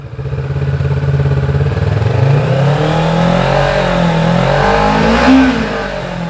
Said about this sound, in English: Its characteristic grumble gets stronger with revs.